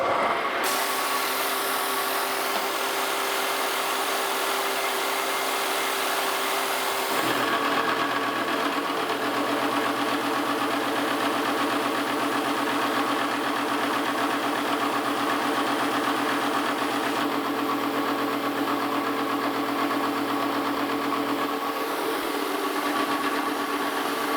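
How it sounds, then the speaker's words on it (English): A face mill grinds steadily through a steel steam locomotive spring hanger, a continuous loud machining drone with a steady tonal whine that shifts pitch partway through as the cut changes. "It's the first time I've used this particular face mill."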